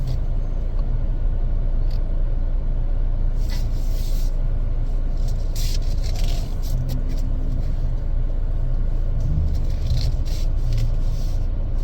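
A 2024 Chevrolet Equinox AWD LS reversing into a parking spot gives a steady, close low engine and tyre rumble with a few brief clicks and knocks.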